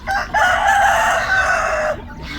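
A native chicken rooster in a backyard farm crows loudly and close by, one long sustained call lasting nearly two seconds, followed by quieter background ambience.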